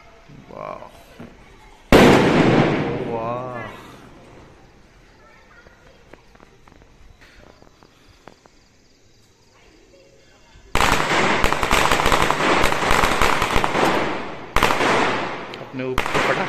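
A loud, close firecracker bursts early at a Diwali celebration in Sikkim, then after a lull a long string of rapid crackling bangs pops continuously, with a short gap near the end.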